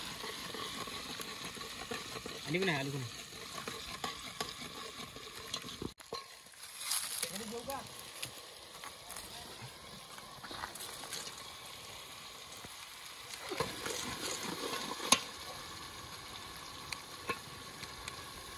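A spice paste fries in a pan for a fish curry while being stirred, giving a faint, steady sizzle with occasional scraping. Quiet voices come and go in the background.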